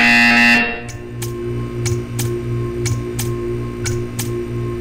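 A buzzer in the video game Portal 2 sounds once loudly, then a steady run of sharp, evenly spaced ticks or clicks follows over a low mechanical hum.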